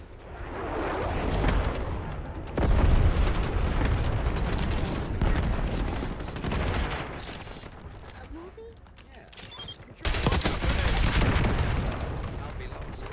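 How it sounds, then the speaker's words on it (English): Video game rocket launcher fire and explosions come as loud bursts and booms amid rapid mechanical gunfire clatter, with surges around the third and tenth seconds. "Breaking out rocket launcher."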